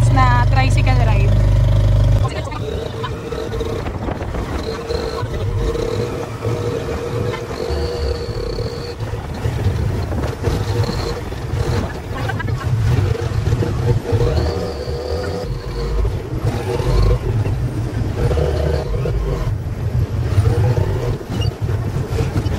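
Motor tricycle engine droning steadily through a short ride from the airport toward Boracay, with wind buffeting and road rumble throughout and people talking over the engine noise.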